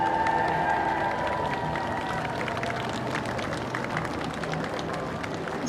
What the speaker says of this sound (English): It's just polite clapping with like maybe 100 people